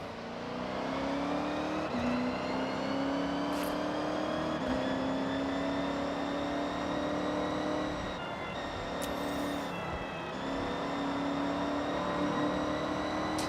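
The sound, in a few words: car engine revving in video game Forza Horizon 6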